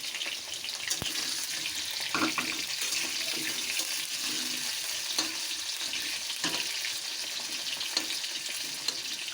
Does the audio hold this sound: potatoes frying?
yes